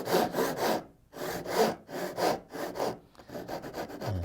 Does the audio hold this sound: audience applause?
no